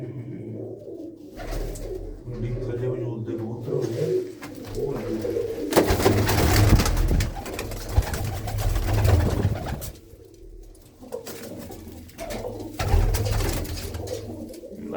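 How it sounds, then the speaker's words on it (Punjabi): Several pigeons coo close by in a loft in low, rolling phrases that overlap and swell, with soft rustling between calls. "ਦਿਲ ਖੁਸ਼ ਕਰਦੇ ਪਰਿੰਦੇ ਆ ਬਈ ਆਪਣੇ ਕਬੂਤਰਾਂ ਦੇ ਬਾੜੇ"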